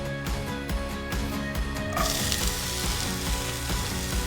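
Whole spices, cumin and fennel seeds sizzle in hot ghee for a Lahori shahi malai kofta, a steady close frying hiss that swells louder and brighter partway through, with no talking.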